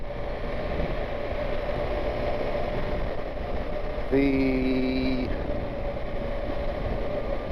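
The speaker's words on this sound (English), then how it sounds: "motorbike sounds a little bit quiet. I put my baffle in the fuel exhaust" A steady, muffled motorbike engine drone with a baffle in the exhaust runs throughout, fairly subdued, with a brief tonal horn-like note briefly rising over it midway, on roads in the Lake District.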